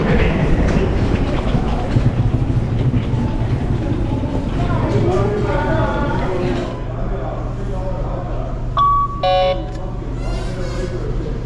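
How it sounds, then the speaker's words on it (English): Train at a station platform, a steady low rumble of rolling stock with rail noise under ongoing conversation, ending with a short electronic beep or chime near the end. "So, is this the train we're supposed to catch over here?"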